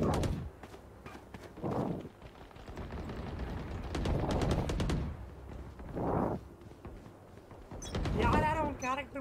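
Gunfire in the first-person shooter Valorant comes in several loud bursts mixed with game effects, while a player talks excitedly over the action.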